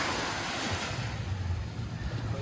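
Steady seaside wind and low rumbling surf by the ocean in the Philippines, a dense continuous wash of noise with no voices.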